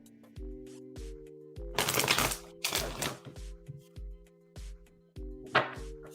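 Tarot cards are shuffled in quick bursts, crisp riffling sweeps that come close and loud between quieter pauses, backed by a soft sustained musical hum.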